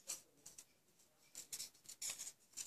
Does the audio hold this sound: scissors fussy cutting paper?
yes